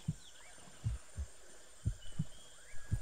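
A heartbeat sound effect in a video game pulses as soft, low double thumps at a slow, slightly uneven pace, quiet beneath faint whistling sweeps in the background.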